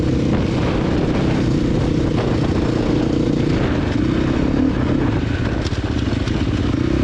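An enduro motorcycle on the Finke Desert Race track churns through soft desert sand, its engine droning loud and continuous at close range with rough clattering texture throughout.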